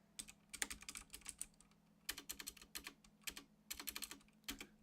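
Fingers type on a computer keyboard in quick bursts of clacking keystrokes separated by short pauses, close and fairly quiet over a faint steady hum.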